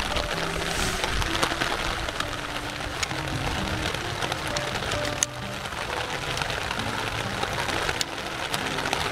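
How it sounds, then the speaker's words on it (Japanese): Heavy rain during a storm at Hachi Kogen auto campsite in Japan, falling steadily as a dense, constant hiss and patter that runs without a break through the whole stretch. "雨がめちゃくちゃひどいわ。"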